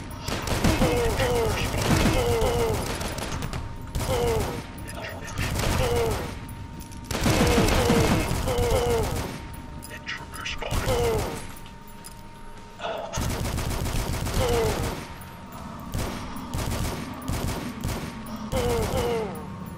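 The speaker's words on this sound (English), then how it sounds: "Oh, assault rifle." Rapid automatic assault rifle fire in the retro shooter DUSK comes in long, loud sustained bursts separated by short pauses, with a voice talking over parts of it.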